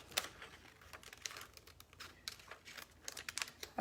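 An adhesive sheet for wall art is cut, giving quiet crinkly snips and rustles in irregular short bursts, faint and close with no talk.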